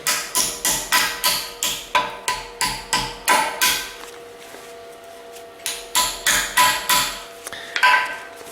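Rapid, evenly spaced metallic hammer blows on a knife wedged into a tight oil sump ring out in bursts, pausing for a few seconds before resuming with another quick series of strikes.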